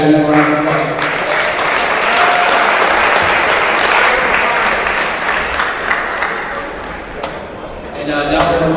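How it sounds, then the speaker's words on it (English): Sustained audience applause at a high school basketball banquet, a loud continuous roar of clapping rising after a speaker's voice and fading before he resumes. "Give these guys one more round of applause."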